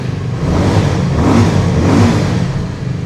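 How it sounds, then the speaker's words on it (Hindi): A 2021 or 2022 Benelli 600i motorcycle fitted with an original Akrapovic exhaust revs up loudly and close, its engine rising in two strong surges before easing back, with no talking. "एक्रा का ओरिजिनल एग्जॉस्ट भी लगा हुआ है। पहले साउंड सुन लो,"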